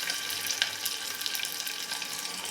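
Chopped curry leaves and small-cut onion sizzle steadily in hot oil, a soft continuous frying hiss with faint crackles, heard alone at low volume.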